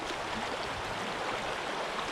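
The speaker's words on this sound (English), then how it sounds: "There's the creek." A Kentucky creek flows in a steady, dense broadband rush, close and continuous with no voices.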